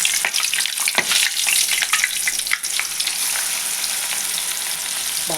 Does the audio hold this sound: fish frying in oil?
yes